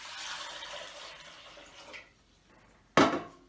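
Water runs into a pot of eggs and red onion skins on a kitchen stove, a soft, steady pour that fades out, followed by a single sharp clattering splash near the end.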